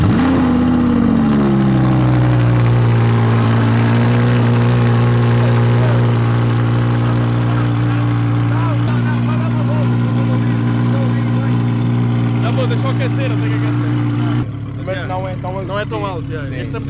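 A car cold-starts and settles into a loud, aggressive, deep idle, a strong steady drone that holds for about fifteen seconds before dropping slightly, with people talking over it.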